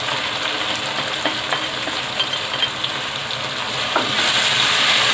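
Ground spices hit softened tomatoes in a hot pan for keema aloo, a continuous close sizzle with faint stirring scrapes that swells louder toward the end.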